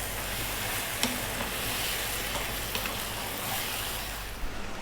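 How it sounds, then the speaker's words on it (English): Ripe tomatoes sizzle over medium heat in a pan for chicken curry, a steady low hiss with a few faint clicks, no talking. "go on the medium heat still for 5 to 6 minutes as the tomatoes cook"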